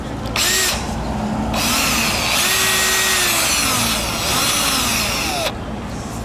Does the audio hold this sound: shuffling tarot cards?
no